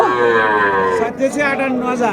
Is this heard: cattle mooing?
yes